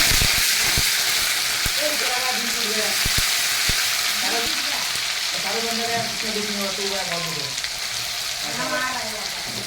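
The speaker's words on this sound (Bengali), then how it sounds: "পেঁয়াজ বাটাটা কিন্তু আমার অনেকটা ভাজা হয়ে গেছে" Onion paste frying in a pan for a tilapia fish dish gives a steady, close, hissing sizzle that runs the whole time, with a voice talking over it.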